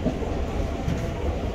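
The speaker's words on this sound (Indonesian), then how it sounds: "Ini kereta bandara ini." Steady rumble of an airport train at Manggarai station platform in Jakarta, a dense low drone with crowd murmur and no distinct clatter, continuous throughout.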